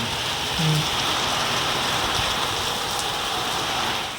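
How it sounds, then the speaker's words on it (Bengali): Heavy monsoon-style rain pours steadily and loudly, a dense continuous hiss of drops hammering surfaces all around, close and unbroken, with no voices over it. "বৃষ্টি প্রচন্ড বৃষ্টি"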